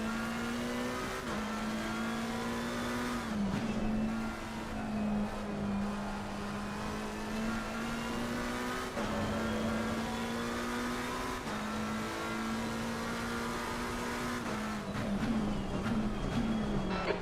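McLaren GT race car lapping Snetterton in Assetto Corsa Competizione, a loud, close engine drone rising steadily through each gear and dropping sharply at upshifts, repeated several times with no talk over it.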